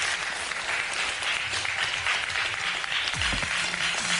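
Steady applause from a TV game show studio audience, dense continuous clapping heard clearly throughout with no speech over it.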